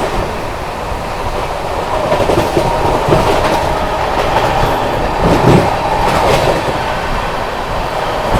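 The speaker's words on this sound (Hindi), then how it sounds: "आगरा लखनऊ इंटरसिटी एक्सप्रेस आती हुई" An Agra Lucknow Intercity Express train passes at steady speed, a continuous loud rumble of wheels on rails with faint clickety-clack, holding level throughout without voices.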